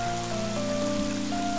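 Rain falls in the video game Mother 3, a steady wash of patter that holds constant beneath sustained tonal game music through a brief moment.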